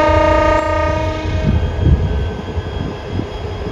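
A train horn sounds loud and sustained at Chittagong railway station, then fades out over the rumble of the station.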